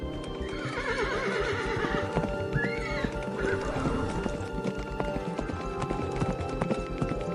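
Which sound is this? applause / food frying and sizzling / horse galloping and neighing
horse galloping and neighing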